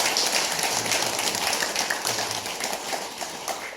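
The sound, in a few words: audience applause at a temple lecture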